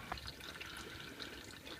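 Engine oil drains steadily from a Toyota Matrix into a pan, a faint continuous liquid trickle and patter with no voices.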